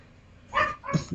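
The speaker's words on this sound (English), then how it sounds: "Sorry about the rude dog." Indoor dog letting out a couple of short, fairly close barks and yips, rising briefly out of a quiet room.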